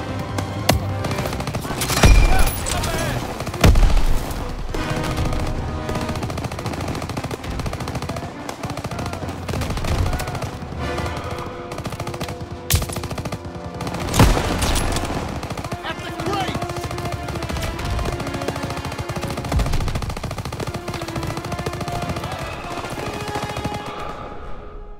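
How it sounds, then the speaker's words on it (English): Intense machine gun fire in the Call of Duty WWII Operation Cobra mission, rapid bursts and overlapping gunshots with booming impacts sustained over a dense battle soundscape, with shouting voices mixed in. "Everyone open fire!"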